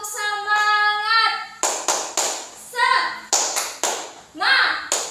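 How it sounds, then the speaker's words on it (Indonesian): A school class performs the 'tepuk semangat' clapping routine, sharp rhythmic bursts of hand claps alternating with children's chanted voices in a lively call-and-response pattern. "Tepuk semangat."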